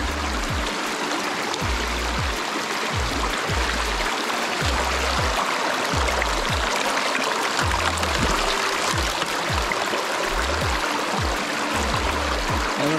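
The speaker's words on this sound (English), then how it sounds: "seems like we've got good flow." Continuous rushing water flowing steadily through an A52S gold prospecting sluice, a loud broadband wash with no talking, like a stream pouring through a channel.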